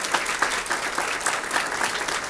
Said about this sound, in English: How about a round of applause for the McAllen ISD aviation program?